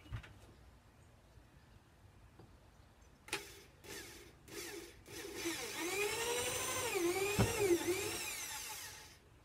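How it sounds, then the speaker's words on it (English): A hole saw on a drill cuts button holes in an arcade cabinet panel, with a few short bursts of the tool followed by a longer, rising grinding cut, moderately close, with no talking. "the hole drill to make the holes."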